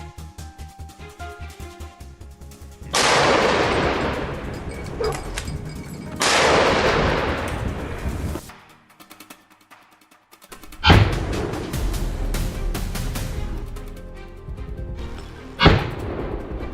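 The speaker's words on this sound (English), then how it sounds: "a sudden gunshot cracked through the mountains" Rifle shots during a wild boar hunt in the mountains ring out as several sharp cracks, each trailing into a long echo that rolls across the slopes, with short quiet gaps between them.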